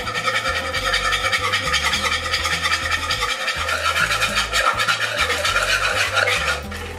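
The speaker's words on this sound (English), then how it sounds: "all we're going to do now is actually completely mix the wet ingredients as much as possible" A spoon scrapes and stirs cornbread batter as wet ingredients are worked into dry ones, giving a continuous, close, rhythmic scratching with soft thumps from the bowl. No one speaks.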